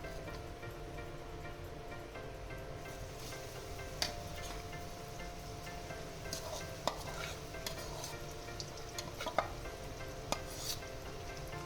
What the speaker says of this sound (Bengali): এবার আমি এর মধ্যে এই ডালটাকে ভেজে নেব।